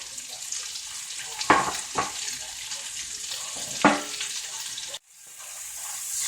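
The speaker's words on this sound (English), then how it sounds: "we're just going to push those bacon bits and onions right back in there." Bacon bits and onions frying in a skillet, a steady soft sizzle with a few louder scraping bursts as they are pushed and stirred around the pan, fairly quiet and close.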